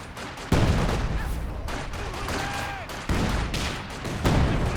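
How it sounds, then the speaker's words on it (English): Repeated artillery barrage from ZiS field guns in Company of Heroes 2: heavy booming blasts land in staggered waves, each followed by rumbling noise and scattered crackling, loud and continuous throughout without any talk. "Another Zis barrage."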